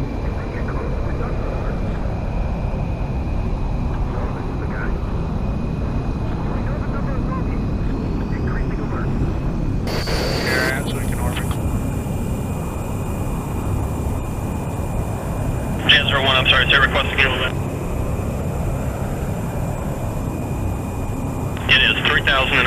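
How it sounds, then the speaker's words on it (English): An aircraft taking off on a Falklands map in the video game Battlefield 2 Project Reality, its engine roaring steadily throughout while people talk over radio chatter and short beeps sound. "you are cleared for takeoff."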